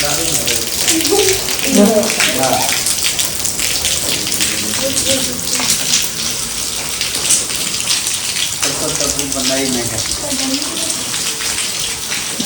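Heavy rain pours steadily on a hard surface, a loud continuous hiss, with voices talking intermittently underneath.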